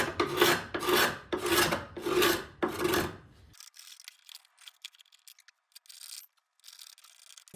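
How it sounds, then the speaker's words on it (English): A card scraper scrapes the printed graphic off a wooden skateboard deck in five rhythmic, loud, close rasping strokes, followed by quieter scattered scratches and handling taps. "We now have to remove the graphic, and to my surprise, a card scraper actually worked pretty well for this."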